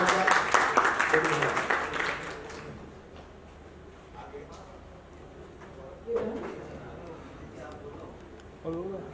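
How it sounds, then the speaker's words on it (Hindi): An audience at an awards announcement for film and TV awards claps in a burst of fairly loud applause that fades over about three seconds, followed by scattered short claps and a person talking. "तो एक बार जोरदार तालियां बजाइए"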